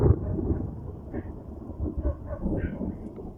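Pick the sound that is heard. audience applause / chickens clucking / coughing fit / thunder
thunder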